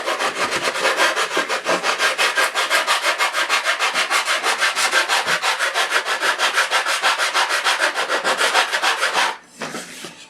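A sanding block rubs rapidly back and forth over balsa wood, a loud close rasping stroke repeating steadily for about nine seconds before stopping, then a few quieter scrapes.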